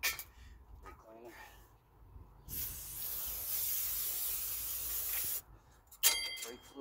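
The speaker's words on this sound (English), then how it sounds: "Brake cleaner." Aerosol brake cleaner sprays in a steady loud hiss for about three seconds while front brakes are serviced on a Suzuki LT250S ATV, with shorter bursts and handling noise before and after.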